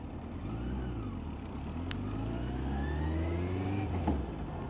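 A road vehicle approaching, heard from a motorcycle during a riding exam: a faint engine hum rising slowly under steady wind and road noise.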